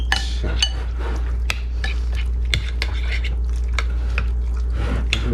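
Chicken pieces being mixed by hand with a teriyaki sauce and salt marinade in a bowl, soft wet squishes with sharp clinks and scrapes against the bowl, close and intermittent over a steady low hum.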